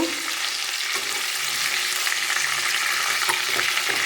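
Browned chicken pieces frying in a pan, a dense, continuous close-up sizzle with faint spatter and occasional light stirring, no talking.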